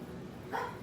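Several pet dogs indoors give a short, sharp bark near the end of a brief, quiet moment, a single yip-like burst rising out of soft room background.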